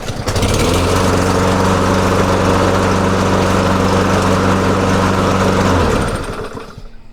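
A lawn mower engine runs at a steady, loud, close drone with a constant hum, then cuts out and winds down to quiet near the end.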